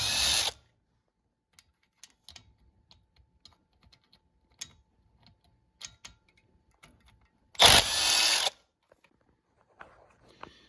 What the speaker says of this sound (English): So now we can begin taking off all these 10mm bolts that go all the way around this front cover.